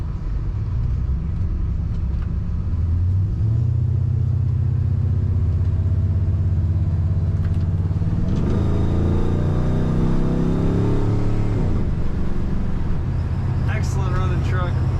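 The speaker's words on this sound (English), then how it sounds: "Let's go around here and accelerate one more time" A 1968 Chevrolet C10 regular-cab truck, lowered for handling, rumbles steadily from inside the cab, then its engine climbs in pitch as it accelerates hard, settling back to a low drone, with a voice speaking over it.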